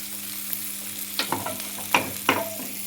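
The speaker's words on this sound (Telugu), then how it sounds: "పోపు అండి ఇది, మనం చింతపండు పులిహోరకి పోపు." Mustard-seed tempering for tamarind pulihora crackles in a hot pan: a steady sizzle with a run of sharp pops and spits bursting out in clusters, close and fairly loud, with no talk.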